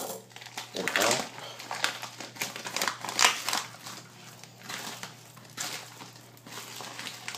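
Plastic packaging around a store-bought pork shoulder roast gets torn open, with bursts of crinkling and rustling, irregular and close, against a faint steady hum.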